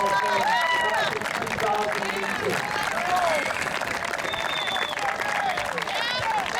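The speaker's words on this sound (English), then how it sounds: "How about a big round of applause for all the members of the Derby High School Athletic Hall of Fame class of" Audience at the Derby High School Athletic Hall of Fame ceremony breaks into sustained applause, steady dense clapping with scattered cheers and whistles and background chatter throughout.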